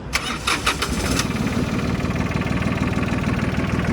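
Mitsubishi MTR-300 mini tractor diesel engine cranking briefly and catching, then settling into a loud, close, steady knocking idle.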